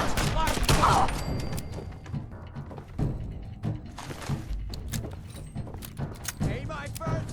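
Gunfire from a Fallout 4 gunfight crackles in scattered sharp bursts throughout, mixed with talk and other game sounds at moderate loudness.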